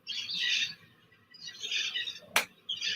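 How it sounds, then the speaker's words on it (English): A large flock of cockatoos calls noisily on a cold morning at a busy historic tourist spot, raucous screeching bursts rising and falling in waves with a sharp close crack near the end. "You can hear all the birds. Noisy cockatoos."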